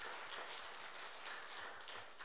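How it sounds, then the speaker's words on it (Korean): A church congregation claps for the choir, a dense, steady applause throughout with no voices over it. "자, 우리 박수 한번 크게 쳐주시고 찬양대"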